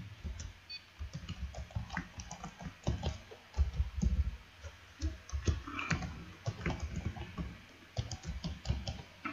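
Fingers type an email address on a computer keyboard, giving a quick, irregular run of close, fairly quiet key clicks with brief pauses and no talk.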